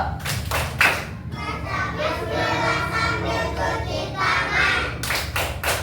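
Children perform the tepuk wudhu clapping chant in a classroom, chanting together with rhythmic hand claps that open and close the clip around a stretch of sung or spoken group voices.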